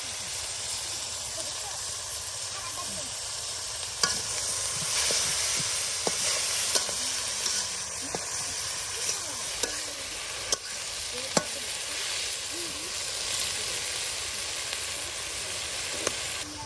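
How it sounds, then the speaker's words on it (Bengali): Malabar spinach flowers fry in hot oil, giving a steady, loud sizzle and hiss with occasional sharp clicks from stirring against the pan, continuous throughout. "দেখুন ফুলগুলো এখন তেলের সাথে এটাও ভেজে নেওয়া হবে"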